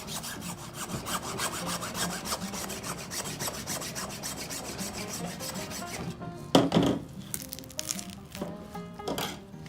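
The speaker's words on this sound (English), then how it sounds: "I think I'm just gonna take my hacksaw here, cut through the spine." A hacksaw cuts through a deer's spine at the neck during home butchering, with a rapid, even back-and-forth rasp that runs steadily before ending in a few heavier strokes.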